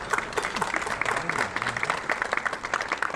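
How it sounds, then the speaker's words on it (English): Luncheon guests at a diversity event applaud together in a full, steady round of clapping, with faint voices murmuring underneath. "I ask you to applaud her"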